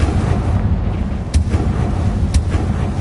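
Bombarda and Confringo spell blasts from the Hogwarts Legacy video game on PS4: loud, booming explosive bursts over a dense rumbling background, with sharper impacts at intervals.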